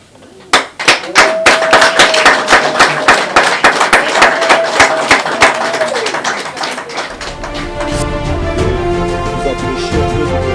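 A wooden gavel is knocked in a rapid series of loud, sharp raps, many strikes in quick succession, followed by clapping and murmuring voices of an assembly at a Congolese ceremony.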